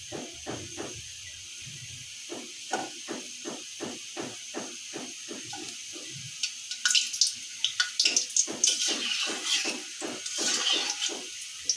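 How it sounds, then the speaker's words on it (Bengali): Pitha batter dropped into hot oil, frying with a steady sizzling hiss that grows busier and louder as more pieces go in, close by with no talking. "তো তেলটা গরম হয়ে গেছে, এইগুলো দিয়ে দিই।"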